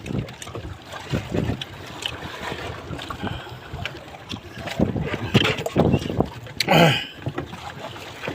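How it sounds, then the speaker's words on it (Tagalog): Gusty wind buffets the microphone in rough bursts, with rain, water splashing around a boat and a few faint voices in the background. "Nalakas ang hangin."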